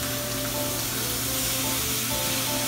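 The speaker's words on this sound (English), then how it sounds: "now we're going to turn the steak over, sear the other side." Steak Florentine searing in a hot pan on a stovetop gives a dense, steady sizzle that stays loud and unbroken from start to finish.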